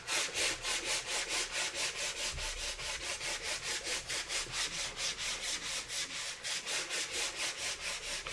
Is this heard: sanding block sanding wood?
yes